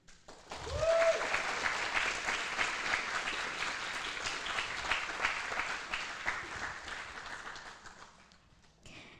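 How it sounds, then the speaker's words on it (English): Audience at a scholarship ceremony applauding as staff come to the stage, sustained crowd clapping after a brief opening voice, steady for several seconds before fading out. "Don't let the clapping stop as they're coming up."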